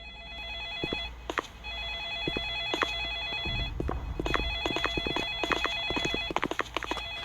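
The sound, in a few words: telephone ringing in Roblox horror game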